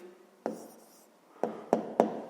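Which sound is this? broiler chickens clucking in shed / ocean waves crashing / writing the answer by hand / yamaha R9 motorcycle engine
writing the answer by hand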